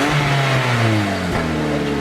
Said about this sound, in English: Engine sounds healthy-ish.